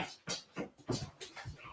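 A heavy dog snorts and grunts like a pig in several short, close bursts with brief gaps between them.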